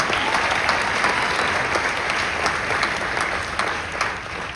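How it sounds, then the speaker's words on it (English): Sustained applause from an audience fills the whole stretch, a dense steady wash of many hands clapping at a formal event honouring a panel, loud and close, with no talking over it. "a round of applause for the panel"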